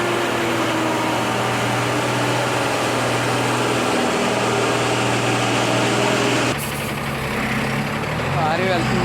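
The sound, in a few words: heavy loaded 12-tyre lorry struggling up ghat road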